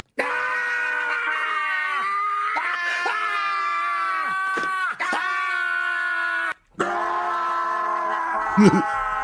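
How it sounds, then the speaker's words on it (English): Long, drawn-out screams slowed to a deep, warbling pitch, one after another with brief breaks, loud and continuous. "a new compilation of all the screams slowed down together"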